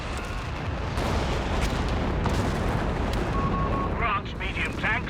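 In Company of Heroes 3, a Bishop self-propelled gun's artillery barrage lands as a sustained rumble of heavy booms and crumping impacts, loud and dense, with brief sharp game sounds near the end.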